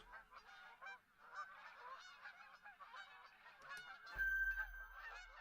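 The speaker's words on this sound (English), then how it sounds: "Geese." A flock of geese honks continuously at a distance in the hunting game The Hunter: Call of the Wild, overlapping calls in a busy chorus, with a brief low electronic tone near the end.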